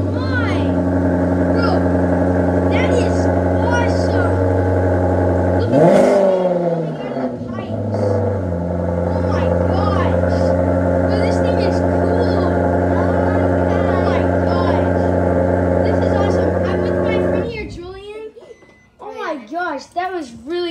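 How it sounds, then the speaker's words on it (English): A Maserati engine idles steadily and loud, with a sharp rev climbing and falling partway through, then shuts off, leaving a short stretch of nearby voices. "he is starting up his Maserati"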